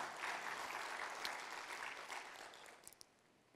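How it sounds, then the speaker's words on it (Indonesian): Church congregation applause during a sermon on Christ's healing power in Holy Communion; quiet, distant broadband clapping that fades toward the end into a few scattered claps. "Beri tepuk tangan yang meriah buat Tuhan"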